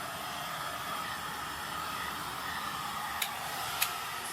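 A heat gun blows a steady, close airy hiss over resin-coated tiles, with two brief sharp ticks near the end and no speech.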